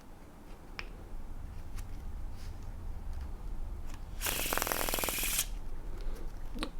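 A deck of playing cards is faro shuffled, with faint scattered clicks followed by one loud, rapid riffling burst lasting about a second before the room settles back to quiet.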